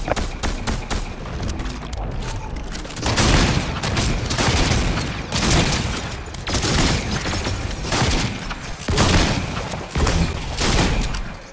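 Rapid, dense gunfire and explosive bursts from a Fortnite duos match, loud and near-continuous, with repeated volleys clustering throughout.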